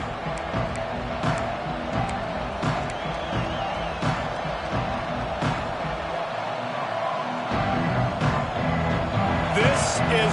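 A college football stadium crowd roars in a broad steady wash, with play-by-play commentary running over the top the whole time.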